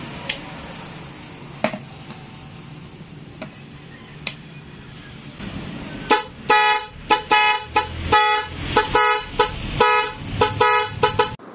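Car fitted with a dual horn setup, a musical horn plus the stock horn; after a few faint ticks, a close series of loud rhythmic horn blasts plays a quick melodic pattern of short notes.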